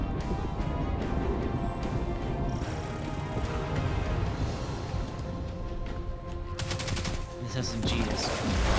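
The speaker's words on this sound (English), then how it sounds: "This SMG is wild. Lasers like crazy." Rapid automatic fire from an SMG in the shooter Destiny 2, a dense, continuous rattle of shots running almost the full length, loud and close, with a burst of sharp crackling near the end and no voices.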